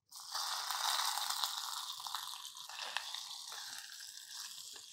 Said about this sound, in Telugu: ఇందులో జీడిపప్పులు వేగనిచ్చి వేసేద్దాము.